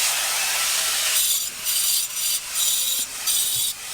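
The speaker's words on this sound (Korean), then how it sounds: "그라인더를 사용하니까 너무 시끄러운 거예요" Angle grinder fitted with a stone-cutting blade, loud and close, a steady high-pitched grinding roar that drops and returns in several rhythmic pulses as the cut is worked in a backyard cement paving job.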